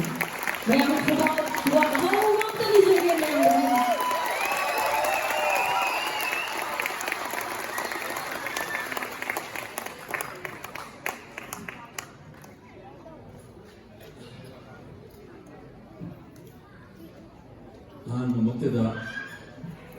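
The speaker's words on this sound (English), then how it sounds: "Ladies and gentlemen, a big round of applause to welcome Dr. Bimol Akoijam." An audience at a Patriots Day gathering in Bangalore bursts into loud, sustained applause welcoming a speaker, dense clapping that fades after about ten seconds, with a brief later swell of crowd noise.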